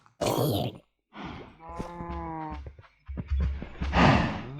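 Cows moo in a survival video game, with several long, loud lowing calls one after another and short pauses between them.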